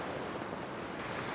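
Big waves roll in near the water's edge on an Irish shoreline, a continuous close surf wash with wind noise over the microphone.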